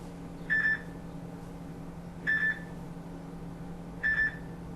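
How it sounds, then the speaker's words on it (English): A mobile phone gives three short, identical electronic beeps at even intervals while being switched off, faint over a quiet room hum. "let me turn my phone off"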